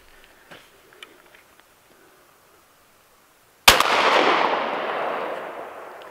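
A single sharp, loud blast from a 20 gauge CZ shotgun with a 28 inch barrel firing 7.5 shot, followed by a long, fading echo. Only faint small clicks and rustles come before the shot.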